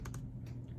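Quick keystrokes on a computer keyboard while entering a product number into a search field, a few crisp clicks close by over a low steady background hum.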